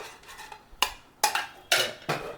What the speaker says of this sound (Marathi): तर हा एक छोटी कढई आहे